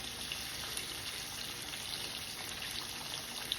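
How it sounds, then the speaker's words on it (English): Excess oil dripping from a freshly fried batch of food lifted out of the fryer, a steady faint hiss and patter of drips that runs without a break, with no voices. "Allow that excess oil to drip."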